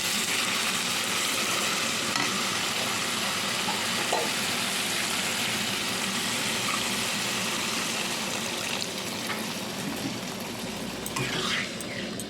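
Eggplant sautéing in a pan for doi begun, a steady, close sizzle and frying hiss running throughout with faint stirring scrapes.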